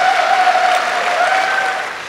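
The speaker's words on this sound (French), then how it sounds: "Applaudissez-le." Sustained applause from an audience at a fashion event, many hands clapping in a thick, steady roar that stays loud for about two seconds and then begins to fade.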